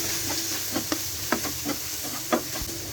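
Ginger-garlic paste with salt, turmeric, chili and coriander powder fries in a pan with a soft, continuous sizzle, broken by several light spoon taps and scrapes as the spices are stirred.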